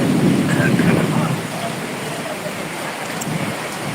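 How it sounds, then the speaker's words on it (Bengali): Heavy monsoon rain pours steadily in Khulna, a dense continuous hiss with a low rumble of thunder strongest at the start, close and loud throughout. "এই মুহূর্তে আপনারা দেখছেন লাইভ অনুষ্ঠান খুলনার বৃষ্টি"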